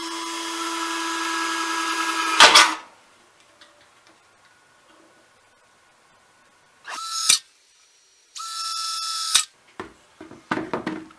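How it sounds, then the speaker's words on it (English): Power drill boring holes in metal for a small homemade wood stove, heard in short close whirring bursts separated by near silence, the motor spinning up and stopping several times. "I'm going to use our drill to drill it out."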